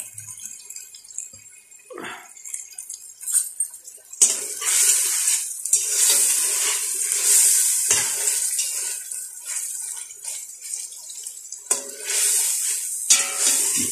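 A pumpkin, pea and meat curry fries in a pot, with a loud, hissing sizzle punctuated by stirring scrapes and utensil clatter against the metal.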